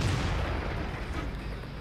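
A tank cannon firing in World of Tanks, one heavy booming blast at the start that rolls off into a long rumbling decay, loud and close.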